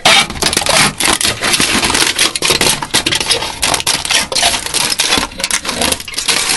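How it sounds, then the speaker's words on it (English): Dense, rapid crackling and crunching as aluminum foil is crumpled up close, loud and continuous with sharp irregular bursts and no voices. "The sound of crinkling aluminum foil."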